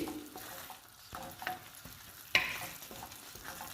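Soft sizzling of coconut chutney with dried red chillies in a pan of tempering, with occasional scraping stirs and a sharp clink, fairly quiet and close, no voices.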